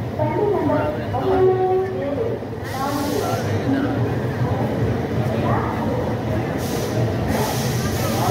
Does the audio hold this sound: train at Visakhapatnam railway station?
yes